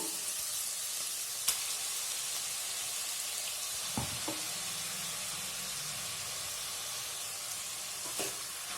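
A ground masala paste goes into a hot pan for a cauliflower and chana dal curry, and a soft, steady sizzle and hiss follows, broken by a few sharp clinks of a spoon against the pan.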